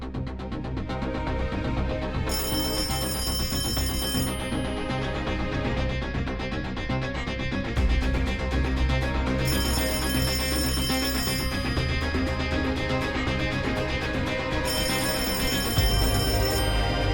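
A telephone rings in a 1990s-style home, sounding in repeated electronic bursts over a continuous loud background of music, with no voices.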